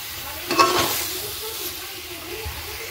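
Masala for a fish curry is stirred and sautéed in a pan: a close hissing sizzle with a burst of scraping stir early on, then settling into steady frying.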